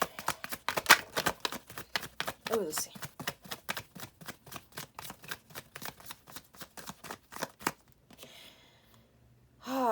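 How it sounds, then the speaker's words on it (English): Tarot cards shuffled by hand in a quick, even run of crisp riffling slaps for about eight seconds, close and clear, then a pause with brief soft speech near the end. "let me shuffle again"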